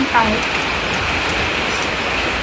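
Rain falls steadily around an outdoor meal, a constant hissing patter with a brief voice near the start.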